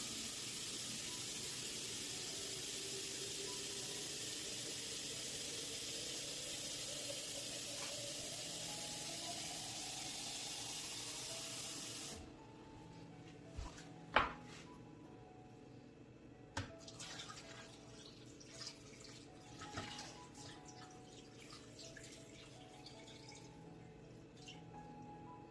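Tap water pours steadily into a cooking pot, a bright rushing hiss that fills for about twelve seconds, then cuts off, leaving scattered drips and light clanks in a quiet kitchen.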